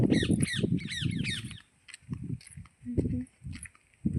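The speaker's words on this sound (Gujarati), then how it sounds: "અહીંયા બહુ બધા ઝાઝા બધા પોપટ રહે છે એટલે બહુ અવાજ આવે છે" Many parrots squawking near a cotton field, loud harsh repeated calls clustered at the start, then scattered squawks and shuffling steps, with a person talking over them.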